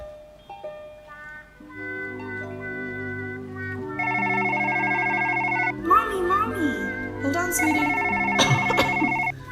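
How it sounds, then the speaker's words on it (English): A telephone rings in a home with a repeating electronic ringtone melody that grows louder midway, while a child calls out and a woman answers briefly over it. "I have to get the phone."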